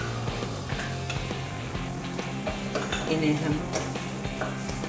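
Ginger and green chili frying in a pan, a steady close sizzle with stirring scrapes and occasional clinks of utensils, with a brief spoken remark over it.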